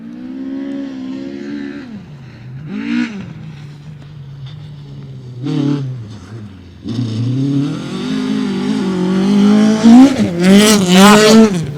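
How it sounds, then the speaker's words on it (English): A Ford Escort rally car with a BDA engine roars past on a rally stage, revving high and dropping through gear changes, with bursts of acceleration growing louder and closer toward the end. "Now the BDA, by the sound of it, comes through next."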